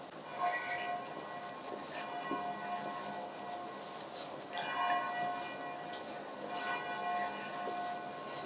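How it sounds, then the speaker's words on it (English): Church bells ring on a Sunday morning in a Boston street, faint and distant, their tolls coming at intervals through a steady outdoor wash of city noise. "Hear the church bells."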